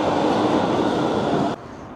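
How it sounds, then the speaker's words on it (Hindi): A Frankfurt metro train runs past close by with a loud, steady rolling roar that cuts off sharply about three-quarters through, leaving a quieter background hum. "यहाँ पर मेट्रो भी चल रही"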